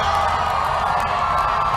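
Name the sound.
crowd cheering and clapping to welcome a guest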